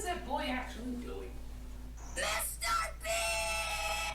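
A person screams a YouTuber's name outdoors down a street, loud strained yelling bursts following a stretch of other vocal sounds, the shouts raw and echoing in the open air.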